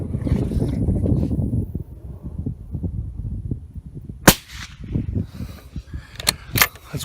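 A suppressed .308 rifle firing full power ammunition outdoors gives a sharp crack followed by a couple of further quick reports, over wind noise and low murmuring.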